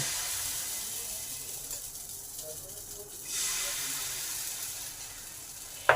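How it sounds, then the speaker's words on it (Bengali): Chickpea dosa batter poured onto a hot pan on a low flame, giving a steady soft hiss that swells into louder sizzling midway and ends with a brief sharp knock. "এবার পরিমাণ মতন ব্যাটার এতে দেবেন।"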